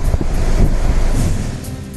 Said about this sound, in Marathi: रत्नागिरीच्या मांडवी किनाऱ्यावर लाटांचा रौद्ररूप, मांडवी किनारपट्टीवर 4 मीटर उंचीच्या लाटा